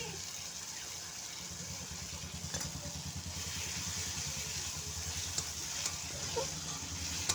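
Spice paste frying in oil in a pan with sauce added, a steady sizzle with scraping stirring strokes and occasional clicks of the utensil against the pan.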